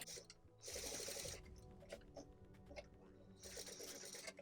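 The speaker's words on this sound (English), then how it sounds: "then we are going to stitch across it to hold it in place" A domestic sewing machine stitches across elastic on a fabric face mask, its motor running in two steady bursts with a pause of softer clicks between them, someone talking quietly underneath.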